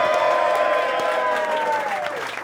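Crowd at a live New York City compliment battle show cheering, whooping and applauding loudly and steadily, a dense sustained roar of voices and claps with no pauses.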